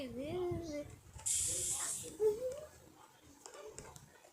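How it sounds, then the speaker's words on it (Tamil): Food fries in the Baby Bobby Day Care video game, giving a short, bright sizzling hiss that flares for under a second amid a man's chatter and other faint game noises. "இது ஃப்ரை பண்ணிட்டு இருக்குடா"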